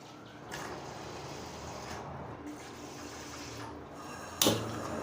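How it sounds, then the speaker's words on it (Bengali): Water for sugar syrup, three cups to four cups of sugar, pours into a pot in a steady close gush lasting several seconds, followed by a brief clatter near the end. "তাহলে এবার আমি এখানে জলটা দিয়ে দিচ্ছি।"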